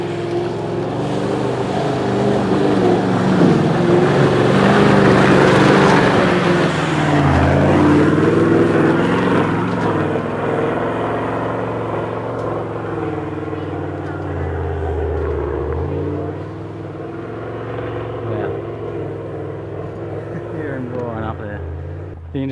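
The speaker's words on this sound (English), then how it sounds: "You can hear the big V8 roaring down there in the canopy somewhere." A big V8 4WD engine roars somewhere below in the rainforest canopy, climbing a wet, muddy hill track on the Creb Track in Cape York. The engine is a distant, sustained drone that swells and fades under people talking nearby.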